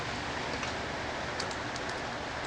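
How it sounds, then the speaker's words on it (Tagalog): Steady rain patters outdoors in the Philippines as a continuous, even hiss, close and moderately loud, with no pauses. "Ayun na ulan."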